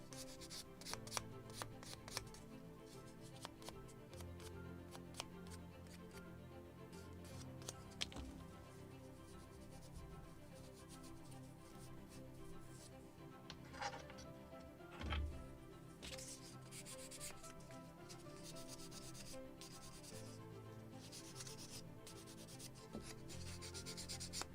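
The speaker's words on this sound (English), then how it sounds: "Ship modeling, this is a lot of sanding and lots of dust." Sandpaper rubs steadily over small wooden parts of a model of the 1776 gunboat Philadelphia's midship deck, a soft, continuous scratching that stays quiet and close throughout.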